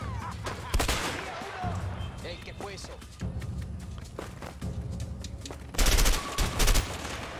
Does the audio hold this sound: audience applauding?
no